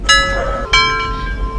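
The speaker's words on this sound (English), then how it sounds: "the doorbell rang a third time" Two bright chimes ring in quick succession, each with a ringing tone that lingers and fades, close and loud like a doorbell.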